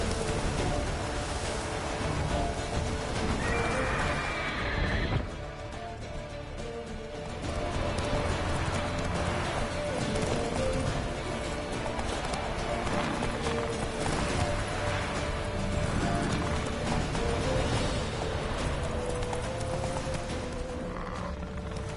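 Hoofbeats of Roach, the horse in The Witcher 3, galloping steadily at close range beneath a dense bed of game music and ambience, with no voices.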